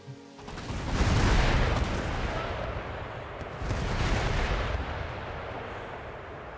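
An artillery volley in Empire: Total War, deep rolling booms of massed cannon fire that swell twice and then fade into a long rumbling tail.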